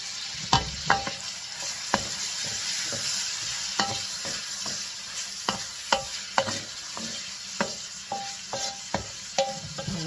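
Tomatoes hit a hot frying pan while cooking ampalaya con carne with pork, giving a steady close sizzle broken by a dozen or so sharp spatula clacks and scrapes against the pan.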